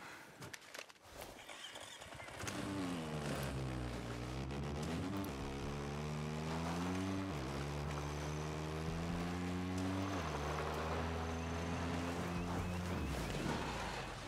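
Helicopter in the video game Ghost Recon Breakpoint, carrying a crate: a steady, loud rotor drone with a low hum that holds from the first few seconds to the end, with slight pitch shifts as it moves.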